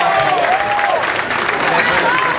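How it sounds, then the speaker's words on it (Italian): A festival crowd applauds a bass player being introduced on stage, a loud wash of clapping and cheering with whistles cutting through, while a voice talks over it. "Al basso, mister Giorgio Marcelli. Un super applauso"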